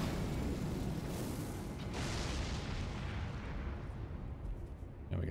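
Explosive barrels and fire pots burst in Elden Ring: Shadow of the Erdtree, making a dense, continuous rumbling roar of blasts that stays fairly faint and gradually thins out, with no talking.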